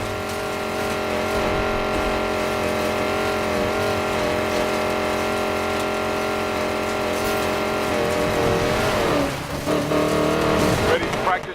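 A hypercar fitted with prototype tech races in Need for Speed Payback, its engine holding a loud, steady drone that shifts pitch near the end, with music and game effects underneath.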